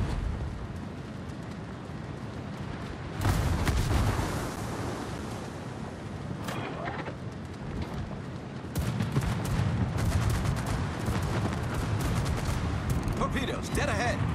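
A naval gun salvo fires in World of Warships from the Italian battleship Cristoforo Colombo, heavy booming blasts erupting in separate loud bursts over sustained rumbling sea and engine noise.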